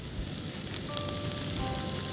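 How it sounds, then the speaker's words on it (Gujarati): Cabbage and other vegetables, seasoned with salt and dried oregano, sauté in a pan with a soft, steady sizzle that stays quiet and even, with a faint tonal hum in the background. "તો આપણે આ વેજીટેબલને જસ્ટ સોટે કરવાનું છે"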